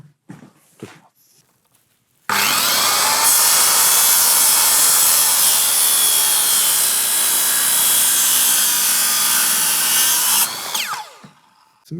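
A circular saw rips a steady, loud cut through wood while shaping a Japanese spokeshave, whining continuously for about eight seconds before spinning down. A few faint knocks and handling sounds come before and after the cut.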